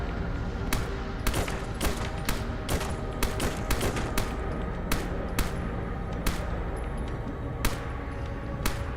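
Rapid sharp gunshots crack irregularly over a dense, constant rumble of action, sounding like frantic combat in the video game Fallout London.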